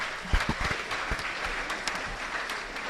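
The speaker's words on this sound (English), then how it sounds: "Let's clap for them." An audience at an interschool maths quiz final claps for a school team after round one, a continuous spread of handclaps with a few louder nearby claps standing out.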